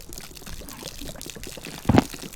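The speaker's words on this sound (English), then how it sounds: "you're gonna hear water go by you" Water from a glitched canteen in the video game DayZ makes faint sloshing trickles, then a louder pouring splash near the end of the clip, with no speech.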